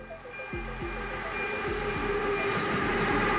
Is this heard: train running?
yes